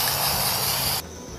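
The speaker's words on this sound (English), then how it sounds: "We're just going to spray paint these." Aerosol spray paint hissing onto glass jars in a steady, loud, close burst for about a second, then cutting off to a quieter background.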